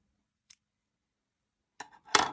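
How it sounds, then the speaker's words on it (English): Scissors snipping elastic cord while a beaded bracelet is being made, a tiny click followed by a quiet pause and then a sharper close snip at the end, soft and isolated. "Then we are going to cut our elastic."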